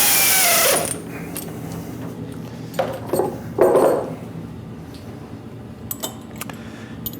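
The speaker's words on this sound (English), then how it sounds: "this is just a single flute D-bit cutter engraving bit, and what we're going to do is we're going to engrave a horizontal line across here" Single flute D-bit engraving cutter scratching a horizontal line into metal on a mill, a loud high whine at the start giving way to quieter scraping bursts and a few short ticks under steady machine hum.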